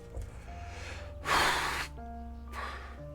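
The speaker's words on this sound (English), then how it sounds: "Sorry, yawn." A single drawn-out human yawn, a loud breathy swell lasting about half a second near the middle, followed by a softer exhale, over a quiet hum from a tabletop roleplaying session.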